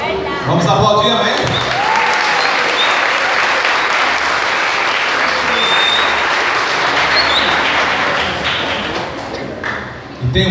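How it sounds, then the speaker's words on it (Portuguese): A church congregation at a Brazilian evangelical service applauds loudly and steadily for several seconds, dense clapping filling the room with a few thumps near the start, tapering slightly at the end. "Vamos aplaudir, amém?"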